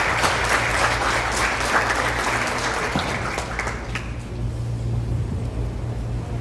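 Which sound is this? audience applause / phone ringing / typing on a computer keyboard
audience applause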